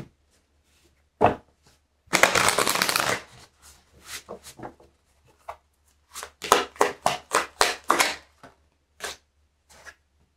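Tarot cards being shuffled by hand: one long riffling burst, then a string of short crisp snaps and taps at uneven intervals in a quiet room.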